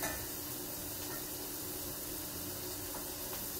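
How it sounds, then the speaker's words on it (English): Chickpea ragu sizzles steadily in a pan as liquids cook down, a close, constant frying hiss with faint stirring and no talk. "Going to kind of let that sound, that sizzle, kind of, you know, occur before we add in our next ingredient"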